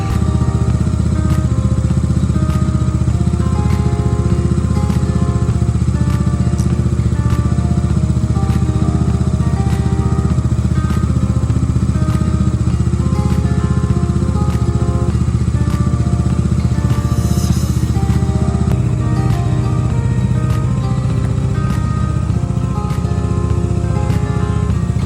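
A motorcycle engine runs steadily and close by for the whole stretch, with a continuous low drone and a brief higher whine near the middle, during a holiday ride in Nepal on Maghe Sankranti.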